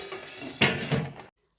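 A lid is set onto a metal cooking pot of chickpeas simmering with oil, giving one sharp clank and a softer rattle as it settles, close and alone, followed by silence.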